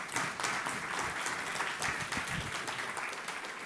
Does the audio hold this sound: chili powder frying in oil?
no